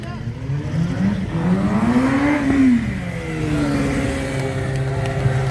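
A motorcycle engine at a stunt show revs up and down in rising and falling sweeps, loud and close, with a crowd and announcer faintly underneath.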